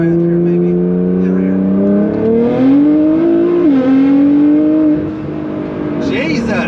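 Nissan GT-R engine pulling hard during a short full-throttle run, its loud revving tone climbing steadily in pitch over several seconds before easing off.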